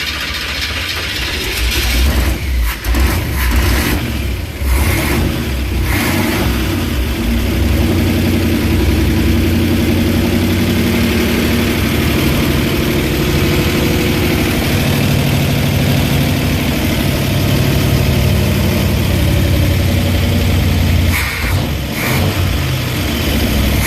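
Old camper van engine coughing to life and running after fuel is poured into the carburettor float bowl, a loud, rough, continuous mechanical clatter and rumble with a few sputters early on, close by.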